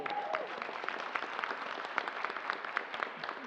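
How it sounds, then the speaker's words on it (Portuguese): An audience bursts into sustained applause for Mestre Newton, dense overlapping clapping filling a hall at a steady level, with faint voices underneath. "Uma salva de palmas."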